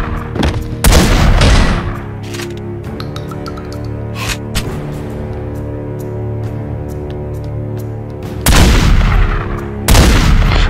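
Bursts of heavy gunfire in The Godfather video game with booming shots, loud at the start and again near the end, separated by a steady mechanical hum and scattered clicks.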